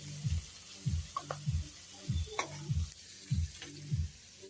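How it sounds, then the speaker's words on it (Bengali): Small river shrimp fried together with small tangra and puti fish in a pan, giving a steady low sizzle with a regular pulsing stir or scrape about twice a second and no talk over it. "মাছ ভাজা হয়ে গেছে"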